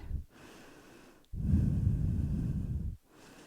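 A deep, audible breath during a gentle standing yoga flow in warrior two: a short intake followed by a long, steady exhale close to the microphone, with quiet room tone between.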